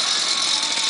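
A motorized bicycle engine with a stuck clutch revs in a continuous buzzing, rattling whine, loud and close for a brief moment, with no voices heard.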